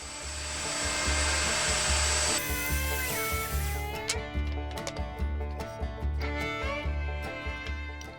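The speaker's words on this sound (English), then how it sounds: "Next we're going to remove the rounded edges from the 2x4." A power tool whirs loudly and steadily while rounding off the edges of a 2x4 for a floating shelf cleat, its droning hum shifting into rougher cutting and rubbing textures with repeated bursts as the bit works along the wood.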